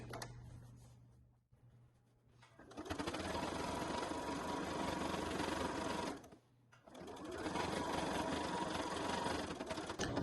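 A sewing machine stitches a fabric beach bag in two loud, continuous runs separated by a short pause, the motor whirring with rapid needle clatter close up, the second run a backstitch to finish the seam.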